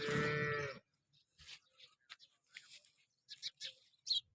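A dairy cow on a farm in Tharad taluka, Banaskantha, gives one short, fairly close moo at the start, followed by scattered faint clicks and rustles in a quiet barn.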